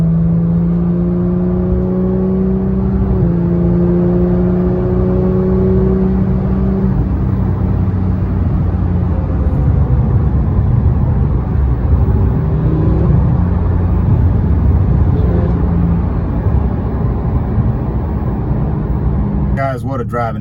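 A Porsche 911 GT3 pulls away and accelerates, its engine rising and falling in a loud, continuous close-up drone with tire and road roar beneath it, and a voice talking over it throughout.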